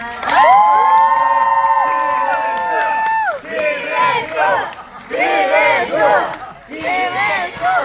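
A packed CGV Yongsan cinema audience at a stage greeting for the film Smuggling screams and cheers in loud, sustained bursts, with excited shrieks and whoops rising and falling in several waves.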